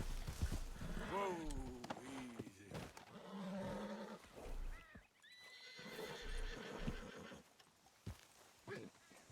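A horse in the Red Dead Redemption 2 video game neighs and whinnies with clip-clopping hooves, several calls over a few seconds mixed with game sounds and someone talking.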